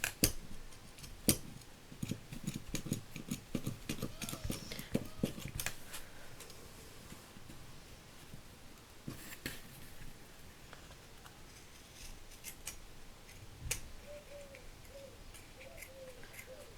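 Scissors cut through a thick faux leather book cover, giving a series of close, crisp snips and clicks, irregular and fairly quiet against a soft background.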